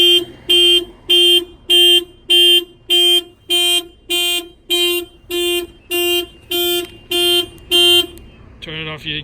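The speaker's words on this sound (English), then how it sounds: "bang on the front tire, and that will fire off the alarm" A Toyota C-HR's aftermarket car alarm, set off by a bang on the front tire, blares a loud regular series of about fifteen identical tonal beeps in steady rhythm, then switches to a different rapid siren tone at the end.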